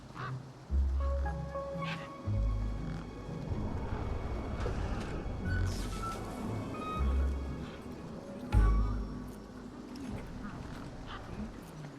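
Tough desert birds in the video game Beyond a Steel Sky, with several loud low honks spaced irregularly while a narrator keeps talking over them.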